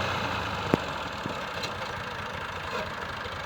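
A Massey Ferguson tractor, an MF 385, idles steadily beside a canal with a low, continuous engine rumble, with a couple of brief knocks near the start.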